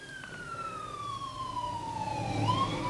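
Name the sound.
ambulance siren passing by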